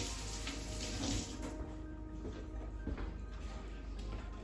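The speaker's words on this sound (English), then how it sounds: "First, I'll get my hands wet." A kitchen tap runs steadily as hands are wetted before handling homemade sourdough pizza dough, a faint continuous splash of water with small fluctuations throughout.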